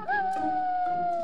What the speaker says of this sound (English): Yes, Oliver! It's a wolf!